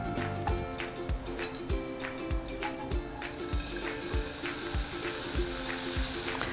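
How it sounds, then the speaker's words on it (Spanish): Crunchy topping frying in hot oil: a steady, close sizzle with regular sharp clicks and pops of a utensil striking the pan, no talking. "Les voy a sofreír hasta que veo que cogen un color doradito, casi deshidratados."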